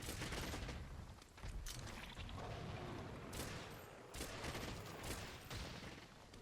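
Dense bursts of gunfire crackle and boom in Monster Hunter World while a giant Deviljho is fought, a continuous loud barrage that swells in several waves.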